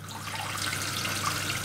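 Cooling water runs steadily from a tap for a Speidel Braumeister 10L brewing system in a home brewery, a continuous close splashing trickle with no voices.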